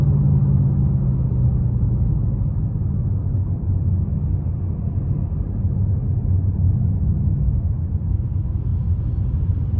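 A Ford Mustang 5.0 engine rumbles steadily and deeply from inside the car during a late-night drive, with a constant low drone and no talking.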